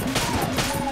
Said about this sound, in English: I like this ice gun. It's no joke.